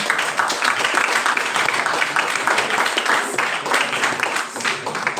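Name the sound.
audience applause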